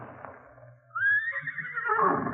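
A horse whinnies in an old-time radio western drama: a low rumble first, then one loud, drawn-out neigh that rises and wavers before trailing off, with no talk.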